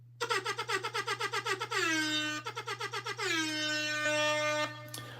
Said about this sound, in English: And this air horn is for you.